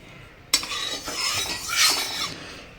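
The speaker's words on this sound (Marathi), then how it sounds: "आता हे तूप आपण सगळीकडं पसरवून घेणार आहोत" A spoon spreads ghee around a kadhai, beginning with a sharp metallic knock, then scraping and sweeping strokes against the pan with a faint sizzle, close and moderately loud.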